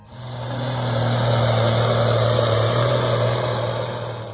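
A Ford 8600 tractor's turbocharged diesel engine runs with a steady, loud droning hum that swells in and holds for several seconds before easing slightly, close by and alone.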